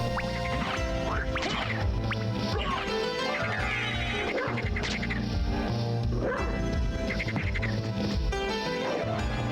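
Barking and yipping from a dog-like creature in the Castlevania: Symphony of the Night video game, loud over dense game music and effects throughout; no one talks.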